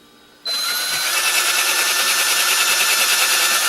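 A power drill bores through a plastic electronics casing, starting abruptly and then running as a loud, steady, close whine with no pauses and no talking.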